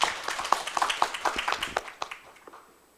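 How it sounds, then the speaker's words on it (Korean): A small audience claps at a Korean seminar on ASEAN textile culture, giving individual hand claps that thin out and fade over a few seconds. "큰 박수로 맞이해 주시길 바라겠습니다."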